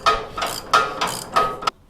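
Clamp being cranked down on a shock tower mount in a garage, giving three short bursts of metallic ratcheting clicks at an even pace, close by and moderately loud, with no talk.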